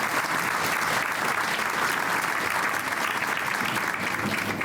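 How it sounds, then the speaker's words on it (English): Steady, dense clapping from an audience at a hospital's groundbreaking ceremony, even and sustained without pause at moderate volume. "Let's give him a round of applause for all the support that they give us."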